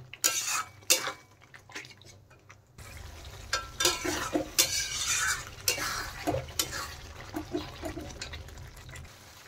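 A spoon stirs and scrapes through masala with fresh yogurt sautéing in a pan for Kashmiri dhaba-style paneer. Irregular clinks and scrapes come close and clear, with pauses between bursts.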